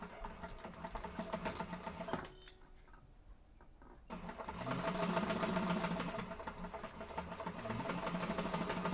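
A sewing machine stitches a seam on a handbag, a steady fast mechanical whir with rhythmic needle clatter, pausing briefly midway then resuming louder and steady.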